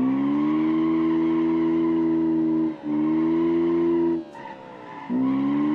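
Tires of a Corolla drift car squeal in long sustained, tonal screeches in BeamNG on a touge mountain road, loud and close, breaking twice briefly before resuming.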